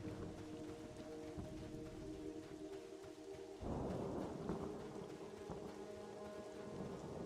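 In the video game Monsters and Memories, steady rain falls and thunder rolls in partway through, a deep rumble that swells and keeps going under the rain with no talking.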